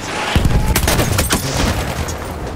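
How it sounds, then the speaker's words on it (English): Grenade blast and gunfire in the video game Battlefield 1: a heavy thump followed by a dense, loud volley of overlapping shots and bursts, with no talking. "Oh god, there's a grenade next to me."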